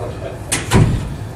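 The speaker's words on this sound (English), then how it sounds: "would you shut the door real quick?" An indoor door swings shut with a short sweep followed by a solid thud partway through, heard under a lecture-room murmur.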